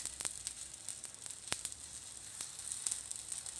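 Potato tikki patties frying in a little hot oil in a pan give a steady, quiet sizzle broken by sharp crackles and pops, with no voices.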